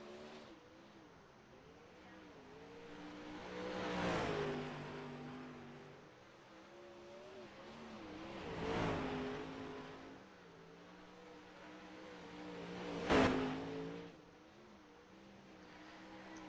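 An onboard dirt-track race car, the number 5 in the Rush Dirtcar Series, laps the oval, its engine droning steadily and swelling into three loud revving surges as it powers through the turns, fading back between each.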